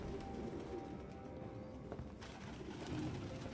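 Soft, low pigeon coos repeat close by against a steady ambient hum in a game scene from Detroit: Become Human, with no talking over them.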